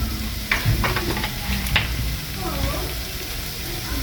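Oil sizzles steadily in a pan of soft goat meat for a mbuzi wet fry, with a few scraping stirs standing out near the start.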